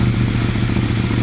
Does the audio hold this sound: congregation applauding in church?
no